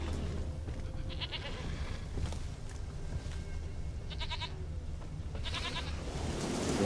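A goat bleating in The Witcher 3, several short wavering bleats repeating over a steady background of game ambience, moderately close and clear with no talking.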